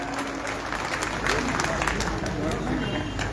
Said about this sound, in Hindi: आप सब लोग एक बार दोनों हाथों से ताली बजाकर भाई साहब का स्वागत